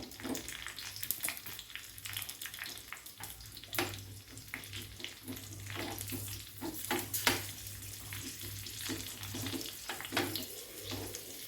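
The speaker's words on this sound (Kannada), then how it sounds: "ಈ ಗ್ರೀನ್ ಚಿಲ್ಲಿಯನ್ನು ನಾವು ಫ್ರೈ ಮಾಡಿದ್ರಾಯಿತು" Green chilies fry in hot ghee, giving a steady soft sizzle broken by many short crackles and clicks that stay at a close, even level with no voices.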